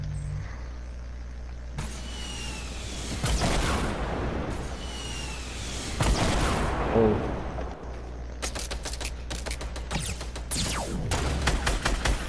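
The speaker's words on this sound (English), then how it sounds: "Shoot a rocket at him." Fortnite gameplay with rocket launches and gunfire: a couple of loud whooshing blasts followed by rapid bursts of automatic fire and impacts over game music and ambient rumble, with no talking over it.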